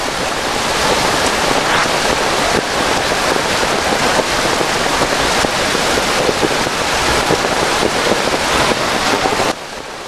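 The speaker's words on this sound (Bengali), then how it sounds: "খুব জোর বৃষ্টি পড়ছে, পুরো আমরা ভিজে গেছি" Heavy monsoon rain pours down steadily near the Devkund waterfall, a loud, dense, continuous wash of noise close to the microphone that cuts off abruptly at the very end.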